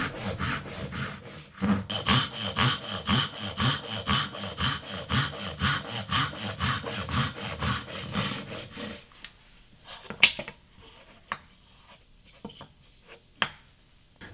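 A frame saw rasps through wood in fast, steady back-and-forth strokes for several seconds, then stops, followed by a few scattered knocks and taps.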